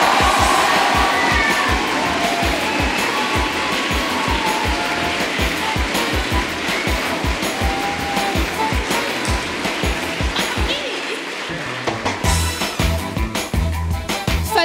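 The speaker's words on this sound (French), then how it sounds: "Tonnerre d'applaudissements pour Jack Jefferson" A large audience in a lecture hall gives thunderous applause and cheering, a dense, loud roar of clapping that runs for many seconds, dips briefly near the end, then resumes with sharper scattered claps.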